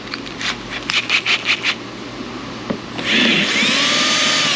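A drill spins up on the back side of a plastic HVAC evaporator box from a 2003–06 GMT800 Silverado, Yukon or Escalade, a brief close whine and scrape following a few light taps.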